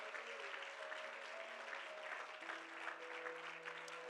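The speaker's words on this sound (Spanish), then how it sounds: "Dele ese aplauso al Señor con todo su corazón" Congregation applause during a church service, a steady, even wash of clapping heard faintly at a distance, with sustained musical tones underneath.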